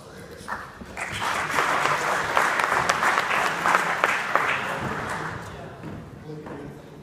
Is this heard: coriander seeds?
no